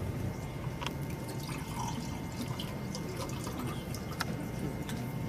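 Kangen water is poured into oil in a container, producing a faint, continuous trickle with scattered small drips and splashes close by.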